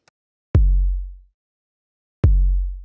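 Low, deep kick drum sample from Logic stock instruments, struck twice with a gap between, each hit a booming thump that rings out and fades over most of a second.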